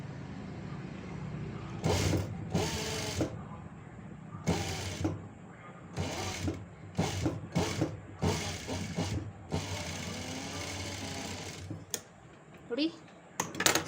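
A sewing machine stitches a puff sleeve frill in a series of loud, close, whirring bursts of rapid needle strokes, separated by short pauses.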